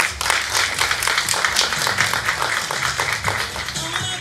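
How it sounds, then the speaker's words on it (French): An audience applauding at an awards ceremony, a dense, lively clapping that stays loud and steady from start to finish with rapid individual hand claps audible within it. "Veuillez l'applaudir."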